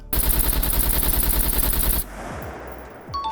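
Loud, rapid automatic gunfire in SCUM, fired at a level five house to test bullet penetration, a dense unbroken burst for about two seconds that stops abruptly, leaving a few faint shell clinks and low thumps.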